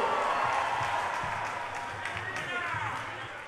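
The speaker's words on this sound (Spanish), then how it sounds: "el aplauso" Audience applause and crowd noise at a live concert at Jet Set Club, a dense continuous wash of clapping and voices that tapers slightly, with a steady low beat and speech mixed in.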